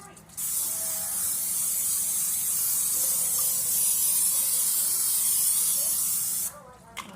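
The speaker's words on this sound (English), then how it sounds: "So you just want to spray your pan very good so nothing sticks to your pan." A steady aerosol spray of cooking oil onto a baking pan hisses for about six seconds, close and loud, starting and stopping abruptly.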